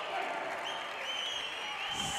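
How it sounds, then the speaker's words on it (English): Spectators applaud at a professional racquetball singles final in Bolivia, a broad wash of clapping and crowd noise heard at a distance while a commentator talks over it throughout. "The crowd coming alive."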